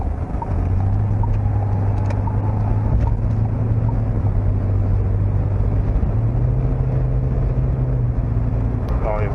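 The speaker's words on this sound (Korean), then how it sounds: "고속도로에 진입을 했으니 한번 쭉 가속을 한번 해볼 텐데요." A SsangYong All-New Rexton SUV accelerates on a highway, heard from inside the cabin as a loud steady engine drone and road rumble with the engine note rising, while someone talks over it.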